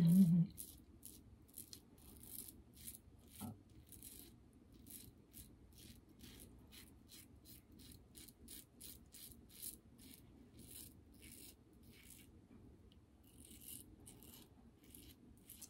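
A razor scraping across a face during a wet shave, heard as a steady run of soft rasping strokes, close and quiet, with no talking.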